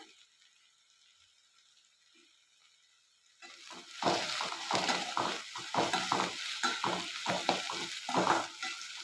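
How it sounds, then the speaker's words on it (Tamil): Sliced onions, about 300 grams, sauté in sesame oil in a pan: after a few quiet seconds, close, steady sizzling starts, broken by repeated scraping and stirring clatter, with no talking. "இப்போ இந்த வெங்காயத்தை இதில் சேர்த்துடலாம் இது நல்லா வதங்கட்டும்"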